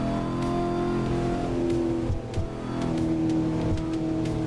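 A car engine drones steadily while driving in the Assetto Corsa racing game, holding a sustained, buzzy tone with a brief dip and then resuming, close and continuous with no talk.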